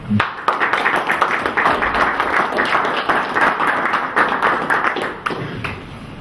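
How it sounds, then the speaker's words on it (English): An audience at an International Men's Day 2013 gathering claps for a speaker, a dense run of close hand claps that holds for about five seconds and then thins out. "give this guy a clap"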